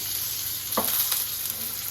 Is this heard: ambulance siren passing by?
no